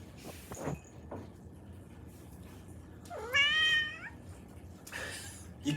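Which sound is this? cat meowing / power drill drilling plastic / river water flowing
cat meowing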